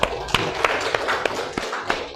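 A class audience in an Indonesian junior high school physics lesson claps in a steady rhythm of sharp, evenly spaced beats, nearby and moderately loud, with faint talk in the background.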